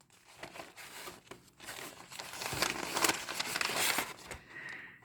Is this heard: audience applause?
no